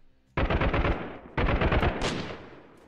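Automatic gunfire in the guerrilla shooter Freeman: Guerrilla Warfare, two loud sustained bursts of rapid shots separated by a short pause, close and harsh.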